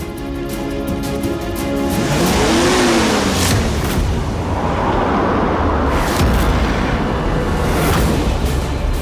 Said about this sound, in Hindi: ये कौन पागल है जो इतनी रात को इतनी तेज गाड़ी चला के आ रहा है?